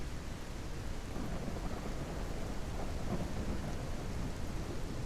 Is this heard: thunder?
yes